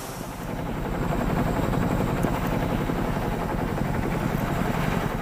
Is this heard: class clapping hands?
no